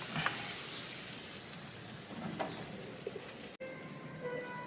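Beef simmering in soy sauce in a pan gives off a steady close sizzle and bubbling while it is stirred, with a few soft scrapes and a brief cut near the end.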